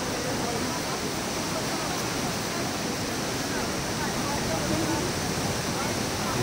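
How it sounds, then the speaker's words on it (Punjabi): A flooded river at Manikaran Sahib in Himachal Pradesh rushes at full speed near a broken bridge, a loud, continuous, dense roar with no breaks or voices. "ਪਾਣੀ ਪੂਰਾ ਸਪੀਡ ਨਾਲ ਚੱਲ ਰਿਹਾ।"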